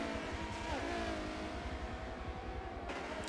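A race car engine in the Forza racing game revs steadily with a dense, growling drone and a brief pitch shift as it changes gear, loud and continuous with no talk.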